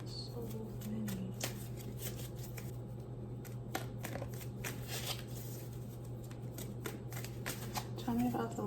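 Tarot cards are shuffled by hand at close range, a steady rapid riffling and sliding texture over a constant low hum, with a person talking in the background.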